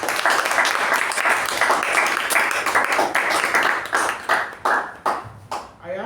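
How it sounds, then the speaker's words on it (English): Toastmasters meeting audience giving a round of applause: dense, loud clapping that thins into separate, slowing claps toward the end, with voices mixed in. "we always reserve resounding round of applause,"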